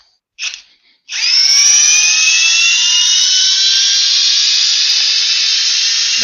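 A Ridgid brushless hammer drill spins up after a brief blip and runs at a steady high-pitched whine, loud and close, then cuts off at the end.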